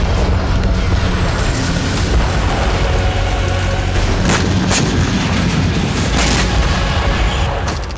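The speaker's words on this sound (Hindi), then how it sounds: "ड्रोन से गिराए बमों से कई धमाके हुए" Dense, rumbling blasts of bombs dropped by drones on a Ukrainian front-line position near Artemovsk, booming over one another in a continuous loud barrage with sharp cracks scattered throughout.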